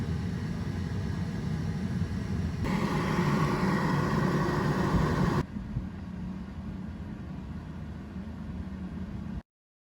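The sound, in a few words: Tesla Model 3 warming up car and battery before trip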